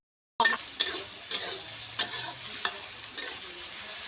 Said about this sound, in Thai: ผัดเครื่องให้หอม